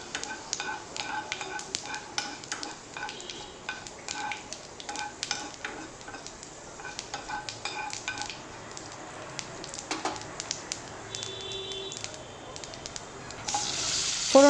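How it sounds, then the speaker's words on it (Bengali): Panch phoron spices fry in a little white oil in a wok, giving a steady close sizzle with frequent stirring scrapes and clicks throughout, with no talking. "ফোড়নটাকে 30 সেকেন্ডস মতো একটু ভাজা ভাজা করে নেব।"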